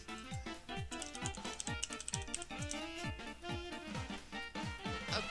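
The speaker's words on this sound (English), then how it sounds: "What if I just type in Mario with gun?" Rapid, close typing on a computer keyboard, a steady run of crisp keystrokes with brief pauses between bursts, over faint background tones.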